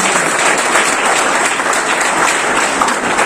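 Sustained, loud applause from an audience at an award ceremony in Indore, many hands clapping steadily and evenly for the whole stretch with no voices over it.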